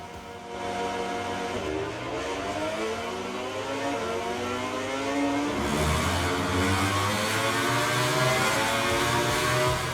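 Motorcycle engine revving in the MotoGP 20 and MotoGP 21 racing video games: a steady, droning mid-pitched engine note whose pitch climbs and falls through gear changes, continuous and loud with no talk.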